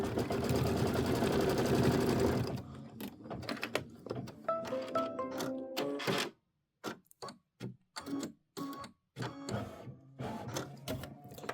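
A sewing machine stitches an outline stitch across a traditional pieced quilt block: a dense, steady mechanical whir for about two and a half seconds, then it stops and a run of scattered clicks and light thunks follows, with no talk.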